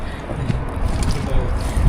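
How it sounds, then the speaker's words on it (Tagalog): Strong wind buffets outdoors, a loud rumbling roar against the microphone with gusty swells throughout. "Biglang lumakas ang hangin, guys."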